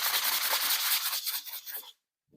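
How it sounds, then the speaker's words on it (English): A wall surface is hand-sanded before plastering, with loud, close, continuous rough scraping strokes for about two seconds that then stop abruptly into silence. "So you sand it a little, and then you can come, the plasterer can come."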